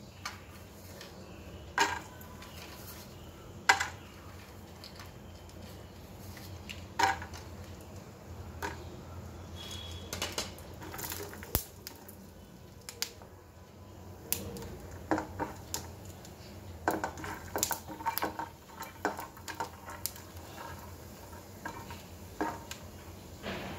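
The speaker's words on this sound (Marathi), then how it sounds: "आता आपण दाणे परतून घेऊ" Peanuts roasting in a pan while making spicy sprouted moth bean chaat, with soft dry stirring scrapes and scattered ticking clicks of nuts shifting against the metal, fairly quiet and steady with no talking.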